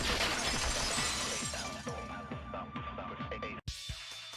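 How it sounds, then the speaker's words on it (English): Glass shattering in the video game Danganronpa 2: Goodbye Despair, a loud crash that breaks into a dense spray of tinkling shards and debris, followed by a brief drop to silence and a few final scattered pieces. "heard the sound of the window shattering"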